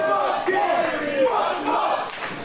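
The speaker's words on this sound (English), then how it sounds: "Crowd coming unglued for Gary" Wrestling crowd at a Texas Death Match show roaring for Gary Jay against Thomas Shire, loud, surging cheers and shouts that rise and fall with a few sharp whoops over the din.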